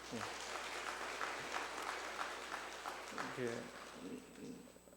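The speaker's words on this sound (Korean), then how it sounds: "하나님 앞에 감사의 박수 한번 올려드리죠" A church congregation at a Thanksgiving Sunday all-generations service breaks into steady applause of thanks, a broad sustained patter that fills the room, with a voice speaking over it now and then.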